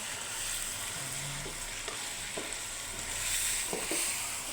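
Sliced pork neck and onions sizzle and hiss in a hot pan while being stir-fried, a steady close frying crackle broken by a few scraping stirs of the utensil.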